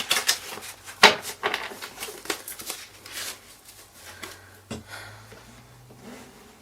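A deck of tarot cards is shuffled by hand in quick bursts of crisp riffling and papery flicks, followed by softer shuffling and a few faint taps, close up and quiet.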